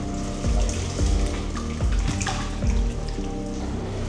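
Liquid poured slowly into a pot at a home gathering, with a loud, continuous watery gush and rising resonant tones as the pot fills, broken by a few surges.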